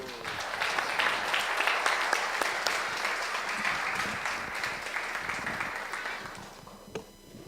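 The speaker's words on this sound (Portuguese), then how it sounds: "Palmas para Jesus." Church congregation clapping together in a steady, dense wash of applause that fills the room for several seconds, fading slightly near the end.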